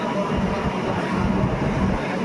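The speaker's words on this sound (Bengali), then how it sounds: "রাজধানী এক্সপ্রেস আমাদের সামনে দিয়ে যাচ্ছে।" Rajdhani Express train passing a station platform, a loud steady broadband rumble of wheels and carriages with no clear breaks, filling the whole short stretch.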